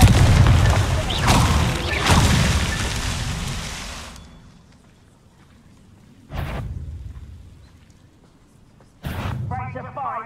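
A Confringo spell explosion in a video game, with a loud, sustained rumbling blast that fades out, followed by two shorter booming bursts.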